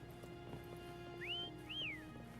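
Two rising-then-falling whistle notes summon a horse mount in the video game Wuthering Waves, clear and moderately loud over a steady hum of game ambience and faint background tones.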